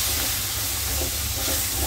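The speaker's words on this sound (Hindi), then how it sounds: "अभी दिख रहे हैं ये मसाला फ्राई हो गया" Masala frying in a pan makes a steady, loud, continuous hiss and sizzle that holds without a break, with no voices.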